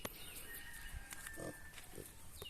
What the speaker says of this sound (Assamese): ইয়া দেখিছে গাহৰি পোৱালি